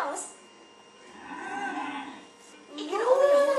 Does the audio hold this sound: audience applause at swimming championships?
no